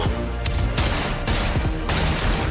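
Gunfire from a video game trailer fills the space with loud, dense bursts of shots, repeated volleys coming close together without a break and no talking over them.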